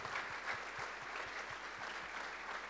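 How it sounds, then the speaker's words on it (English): A church congregation at a Sunday service claps together in a steady, rhythmic beat as people come forward, a continuous crowd of hands heard at a moderate distance. "Let's clap our hands as they come forward."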